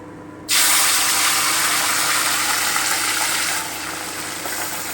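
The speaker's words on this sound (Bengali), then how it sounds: "এবার আমি মাছগুলোকে ভেজে নেব" Fish drop into hot mustard oil and burst into a sudden loud, close sizzle that carries on steadily, easing off slightly toward the end.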